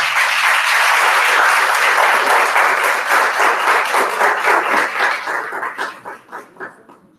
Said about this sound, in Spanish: nosotros aquí que recibimos con un fuerte aplauso y les agradecemos.